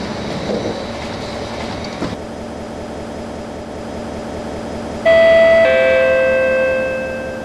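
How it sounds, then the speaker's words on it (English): In the OpenBVE train simulator, a C151 train on the Harbourvale Line sounds its door-closing chime: clear two-tone electronic notes over a steady hum of idling train equipment. "Doors closing."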